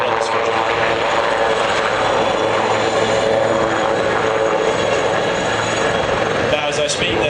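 Display aircraft performing at the Cotswold airshow, a steady loud propeller-engine drone from fairly close overhead that holds for the whole stretch, with a voice talking over it.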